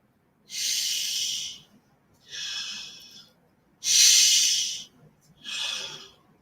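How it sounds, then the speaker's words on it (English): Four slow, deep breaths, airy and close, alternating inhales and exhales with short silent pauses between them. "Breathing in that good ass prana, baby."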